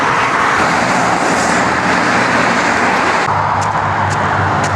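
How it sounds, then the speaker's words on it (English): Heavy highway traffic on Highway 99 heading into Canada beneath a footbridge: a loud, unbroken rush of cars, buses and trucks close below, with a deeper engine rumble rising near the end and no voices. "And there's the traffic coming from the States."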